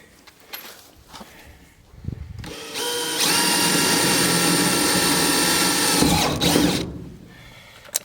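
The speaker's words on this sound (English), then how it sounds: "So I'm pre-drilling them with an 1/8 inch drill bit" A power drill with a 1/8 inch bit pre-drills 1/8 inch steel on a shipping container: a few short quieter bursts, then a loud, steady, high whine held for about four seconds before stopping.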